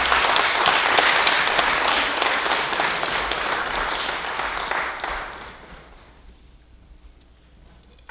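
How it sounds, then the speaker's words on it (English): An audience at a talk on Malcolm X and Islam claps warmly for an activist and organizer, strong sustained applause that fades out over the last few seconds to near quiet. "Please give him a round of applause"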